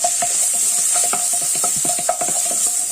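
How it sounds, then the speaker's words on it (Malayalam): Ginger, garlic and curry leaves sautéing in hot oil for a Kerala okra curry make a loud, close, bright sizzle, broken by rapid scraping strokes of a spoon against the pan. "ഇഞ്ചി വെളുത്തുള്ളി അരിഞ്ഞില്ലേ അതുകൂടെ ഇടുക ഇത് നല്ലതുപോലെ ഒന്ന് വാടട്ടെ"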